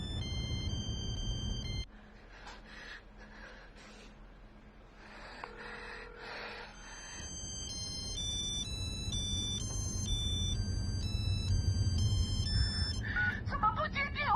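A phone rings on and on without being picked up, its repeating electronic ringtone pattern carrying across the whole stretch with a breathy vocal sound and a brief quieter gap early on.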